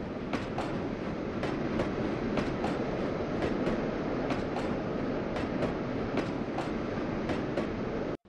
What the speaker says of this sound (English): Here we find our train about to arrive at Osier, Colorado